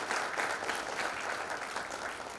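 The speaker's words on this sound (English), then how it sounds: "You can have a round of clap." A seated audience at a literature festival claps steadily, with dense, even applause filling the short stretch from start to finish.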